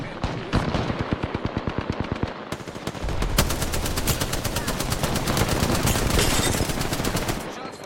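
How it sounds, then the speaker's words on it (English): Rapid automatic gunfire from Apex Legends, with loud, close bursts of evenly spaced shots that run almost without a break, joined by a denser second weapon partway through. A voice speaks briefly underneath. "Shots fired, and they're hit."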